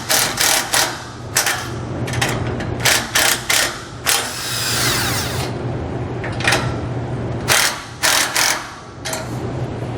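Ratchet wrench tightening bolts on pontoon boat trailer roller guide-ons, giving repeated bursts of close, loud clicking with short pauses between strokes and one longer run of rapid ratcheting in the middle.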